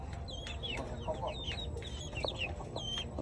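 Several chickens cluck and chirp close by in a pen, overlapping short calls repeating over a steady background murmur.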